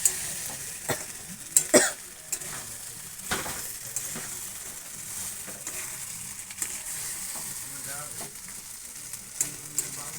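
Goat meat searing in a pan once the lid comes off, with the released water cooked away, giving a close, steady dry sizzle broken by sharp clatters and a few louder pops.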